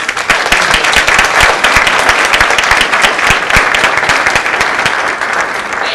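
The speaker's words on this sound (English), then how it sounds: "So a round of applause for these folks." A large audience at an AmeriCorps anniversary and national swearing-in ceremony breaks into loud, sustained applause, with dense overlapping claps filling the whole stretch and a few faint voices underneath.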